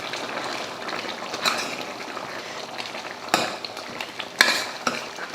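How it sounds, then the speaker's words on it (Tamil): Spiced masala gets stirred into mutton gravy in a pan, a steady scraping and faint sizzle with a few sharper clinks of the spoon against the metal, close up and moderately loud. "சேர்த்துட்டு கலந்துருவோம்."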